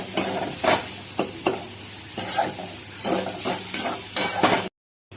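Bombay duck fish curry with coriander leaves is stirred and fried in a pan: continuous sizzling with repeated scraping strokes of a spatula against the pot, close and fairly loud, cutting off abruptly at the end.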